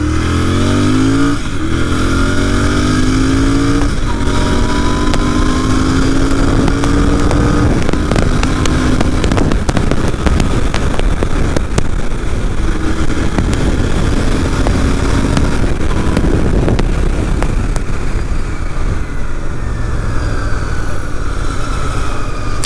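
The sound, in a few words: 650cc motorcycle accelerating through gears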